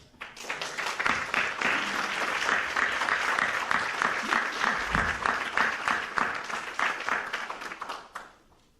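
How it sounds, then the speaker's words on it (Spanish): Audience applause at a book presentation event, a dense, sustained round of clapping from a sizable crowd that rises quickly, holds steady for several seconds, then thins out and fades near the end. "quisiera pedirle que aplaudamos a Jorge, algo que él merece ricamente."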